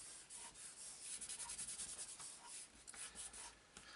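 Card rubbed down by hand to stick it in place, a close, soft, rhythmic scuffing in quick strokes that rises in the middle and then eases off.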